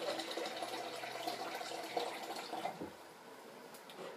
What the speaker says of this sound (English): I'm going to just pour a little bit of water.